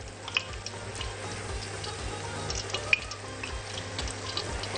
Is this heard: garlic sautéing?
yes